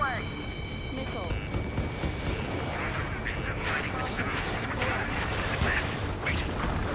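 Gunfire and cannon bursts from aircraft in Ace Combat 7 rattle over a continuous roar of jet engines and rumbling blasts, loud and dense, with voices under the din.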